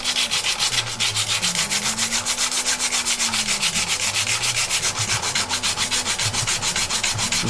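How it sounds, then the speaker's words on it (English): Sandpaper of roughly 120 grit rubbing inside a 3D-printed plastic katana sheath, a steady rhythmic back-and-forth scraping repeated quickly and evenly, close and loud with no talking. "Now we can give it a sand on the inside, and I do this with a bit of sharper grit."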